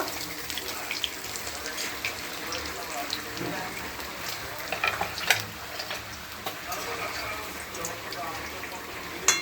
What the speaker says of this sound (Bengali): মাছ ভাজা হয়ে গেছে, এবার তুলে নেব।